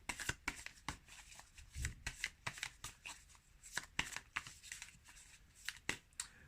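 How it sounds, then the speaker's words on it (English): Tarot cards being shuffled close up, a series of crisp riffling slaps and soft flicks in an irregular rhythm, quiet and alone with no talk. "let's pull some tarot"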